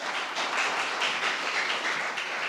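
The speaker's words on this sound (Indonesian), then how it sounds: "Yang keras, berikan tepuk tangan bagi Tuhan kita." A church congregation applauds, dense continuous clapping with a steady rhythm, moderately loud and filling the room, no talking.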